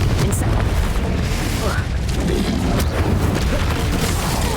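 A Confringo spell blast from the Hogwarts Legacy video game, a dense booming explosion sustained across the clip amid continuous loud game effects, with a voice talking over it.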